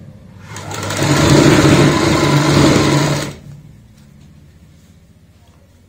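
A sewing machine stitches a folded fabric strip onto a child's frock, running in one steady whirring burst of about three seconds close by before stopping, leaving a quiet room hum.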